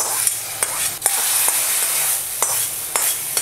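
Hot oil tempering of dried chillies and curry leaves poured over mango thokku, a steady bright sizzle with a few sharp crackles and spatula scrapes, close and loud with no talking.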